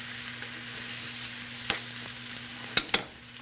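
Thinly sliced chorizo fries in a paella pan with a steady close sizzle, broken by a few sharp clicks and scrapes of a utensil near the end, no voices.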